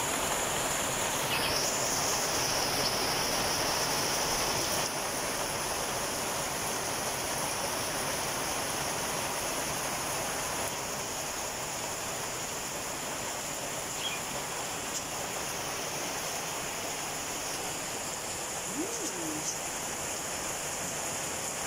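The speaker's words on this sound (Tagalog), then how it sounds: "Kanina ay sobrang mainit, tapos ngayon ay umuulan na." Rain falling at midday after hot, dry weather, a dense, steady hiss of rainfall filling the whole scene, with faint bird chirps now and then.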